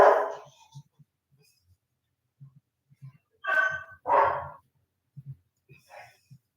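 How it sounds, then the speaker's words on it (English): A dog gives a few short, scattered barks and yips indoors, in small bursts between long quiet gaps, fairly close and moderately loud, with no one talking. "Yeah, that's my dog."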